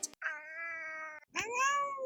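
A domestic cat yapping in a chatty, talkative way, giving two drawn-out, tonal meows separated by a short gap, fairly close but soft, with no other voices.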